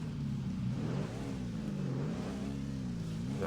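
ATV engine in the video game ATV Offroad Fury 4, a steady mid-pitched drone whose revs rise and fall in waves, continuous and fairly quiet with no talking.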